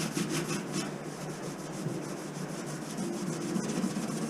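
A Brillo pad is scrubbed back and forth on a surface in short, steady rubbing strokes, a faint rasping scratch repeating close by with no voices.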